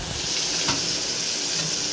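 Chopped onion frying in a pan gives a steady, close hiss and sizzle throughout, with a soft utensil tap near the middle and no talking.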